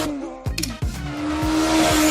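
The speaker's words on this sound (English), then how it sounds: "Motorbike." A motorbike engine revs with sharp rising and falling pitch sweeps, a couple of quick gear-change dips, then climbs into a sustained loud whine, close and without talk.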